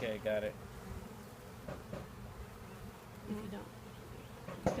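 Honeybees buzz steadily around a hive on a farm in Manoa, a continuous close insect drone, while people talk briefly over it.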